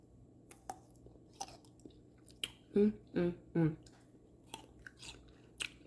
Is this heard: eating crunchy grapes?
yes